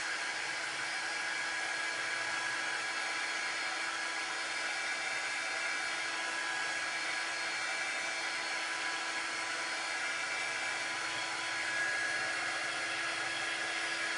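A hair dryer blows a steady, unbroken rushing whir for the whole stretch, drying red chalk-based paint on small wooden Scandinavian bird crafts.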